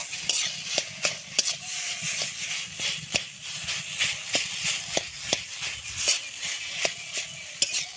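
A spatula scrapes and stirs pointed gourd filling in a pan over low heat, giving steady, close, rhythmic scraping strokes with a faint sizzle underneath.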